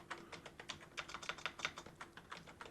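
A command typed on a computer keyboard: a rapid, steady run of close, light key clicks with no talk.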